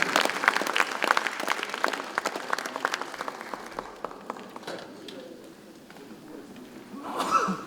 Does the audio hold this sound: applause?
yes